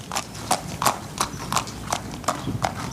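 Coconut halves struck in a sand tray imitate horse hooves as a radio sound effect, a steady clip-clop of about eight evenly spaced, close hoof-like knocks with nothing else heard.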